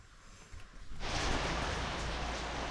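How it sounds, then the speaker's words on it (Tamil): Continuous monsoon rain in Munnar: a quiet first second, then a steady, dense hiss of falling rain that swells in and holds evenly, with no voices. "எப்படி மழை பேஞ்சிட்டே இருக்குது பாருங்க, கொஞ்சம் கூட நிற்கலை"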